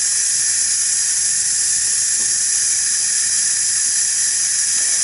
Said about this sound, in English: And you can see all of that steam is really coming out.